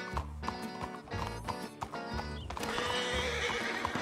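A horse neighs and whinnies close by in a Western audio drama, hooves clip-clopping between the calls and music playing underneath.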